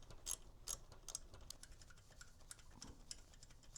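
Ratchet wrench loosening a 12 mm exhaust bolt on a 2024 Yamaha MT-09 motorcycle, giving quiet, close clicking in a few uneven bursts with short pauses between them.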